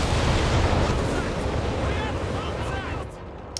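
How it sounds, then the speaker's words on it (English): Incendiary bombing in Company of Heroes 3 rumbles as a dense, loud wall of low explosive roar and crackle, sustained for several seconds before thinning out near the end, with battlefield noise layered throughout. "There is the incendiary bombing now for Koala"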